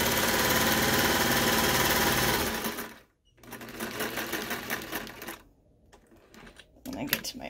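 Sewing machine stitching bedsheet fabric for a poet shirt, running in a loud steady burst for a few seconds, then shorter runs broken by pauses, with some speech in between.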